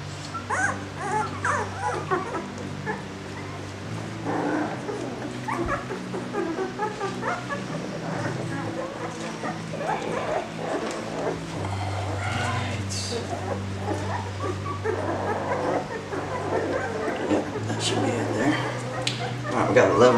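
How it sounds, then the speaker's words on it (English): A litter of newborn puppies whimpering and yipping close by, high squeaky cries layered over one another, with a person talking over them throughout. "Puppies in Rue's litter"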